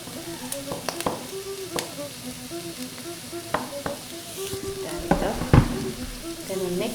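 Offal with garlic and green pepper stir-fries in a pan: a crackling sizzle punctuated by repeated spatula clacks and scrapes that grow busier toward the end, while a faint voice murmurs briefly underneath.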